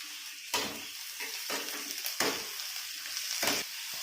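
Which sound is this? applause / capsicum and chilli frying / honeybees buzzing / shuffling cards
capsicum and chilli frying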